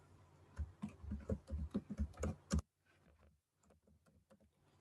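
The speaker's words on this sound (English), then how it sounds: "I'm just typing in a few words." A computer keyboard is typed on in a quick run of close, crisp key clicks for a couple of seconds, followed by a few fainter, scattered taps.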